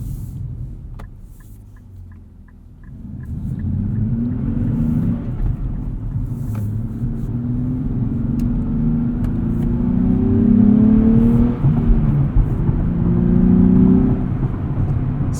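A 2023 Nissan Z's 3-liter V6 revs hard while driving, heard from inside the cabin as a loud, continuous engine drone that climbs and swells steadily, with no talking.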